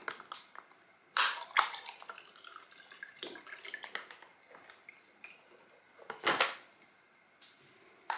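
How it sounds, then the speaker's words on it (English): Liquid from a Norwegian Arctic field ration is poured into a glass, with splashy gurgling bursts, a few drips and small clinks between them. "I'll pour it out into this glass so you can see."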